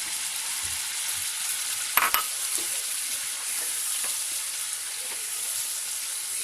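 A paste of almond, cashew and onion sizzles steadily as it fries with chicken for Russian korma, a continuous hiss with a brief clatter of stirring near the two-second mark.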